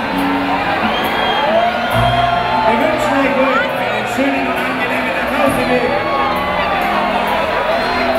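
Dense crowd noise fills a Schützenfestzelt beer tent on the last day of Oktoberfest 2011, cheers and whoops rising over a steady loud roar while someone speaks German over the din.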